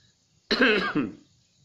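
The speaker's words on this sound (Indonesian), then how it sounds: "Maaf, saya masih batuk," A single throaty cough, close and fairly loud, in an otherwise quiet room.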